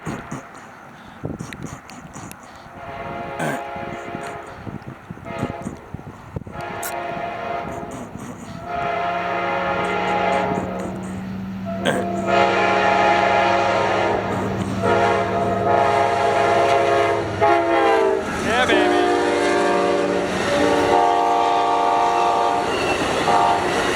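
A train rolls past at speed on a CSX, Amtrak and FEC line, its horn sounding in long steady blasts over a loud, continuous roar of wheels and cars that builds and holds close by throughout.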